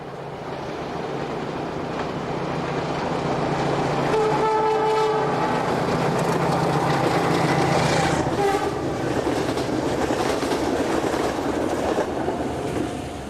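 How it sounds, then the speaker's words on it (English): Portuguese diesel locomotive 1436 hauling a loaded train, a loud rumbling engine with rolling wheel noise that builds as it nears, two short horn blasts sounding partway through. "The following morning, the loaded train heads north behind"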